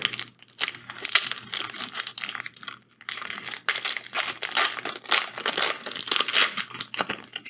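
A Magic: The Gathering Brothers' War set booster pack's foil wrapper is torn open and crinkled close up, with bursts of sharp crackling and ripping separated by short pauses and no speech.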